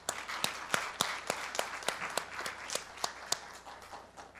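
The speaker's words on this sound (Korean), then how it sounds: "여러분 큰 격려의 박수를 보내주시면 좋겠습니다." Quiet, sparse clapping at a 60th anniversary ceremony of a Korean church, individual hand claps landing in a loose, roughly regular rhythm, soft and somewhat distant.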